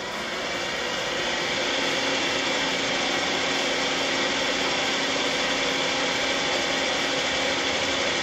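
An electric whisk beats egg whites for meringue, giving a steady, loud, even motor whir with no pauses throughout.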